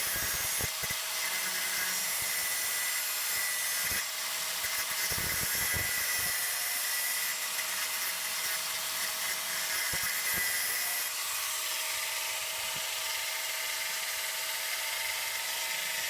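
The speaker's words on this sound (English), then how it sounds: "we'll get the grinder out and we'll give it a grind." An angle grinder cuts through the welds on the bumper struts of a Volkswagen Beetle, a loud continuous high-pitched scream with occasional dips and knocks where the disc bites, heard close with no talking.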